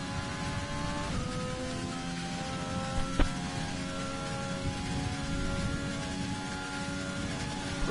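Steady whine of an F1 car engine on a push lap in a racing video game, heard from onboard with layered sustained tones and a brief sharp click midway, fairly quiet throughout.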